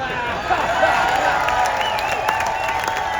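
Steady applause from a crowd at an opening-night event on a classic film cruise, dense and sustained with some cheering mixed in, filling the whole stretch.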